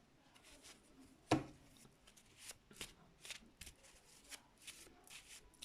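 A deck of cards being cut and shuffled, with a sharp riffle snap near the start followed by a string of soft, quick card flicks and shuffles, close and fairly quiet, with no talking.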